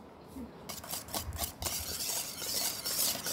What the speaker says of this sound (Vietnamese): mình trộn đều trứng và mascarpone